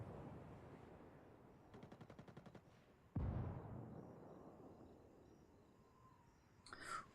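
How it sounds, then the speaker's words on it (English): Gunfire in the video game Ghost War, faint and distant, with a quick burst of rapid shots, then one heavy boom that trails off, over quiet ambient game sound. "Red team is making use of that new artillery they brought."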